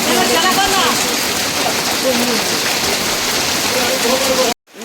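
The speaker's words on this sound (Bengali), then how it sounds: "এদিকে বৃষ্টি পড়ছে, বোটগুলো পুরো ভিজে যাচ্ছে।" Steady rain pours down outdoors during a thunderstorm, drenching boats; a dense, continuous hiss of drops fills the scene loudly until it cuts out abruptly near the end.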